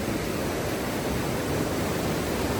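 A waterfall at Ducheny Falls gives a steady, moderate rush of broadband water noise, even and unbroken for a few seconds with no voices.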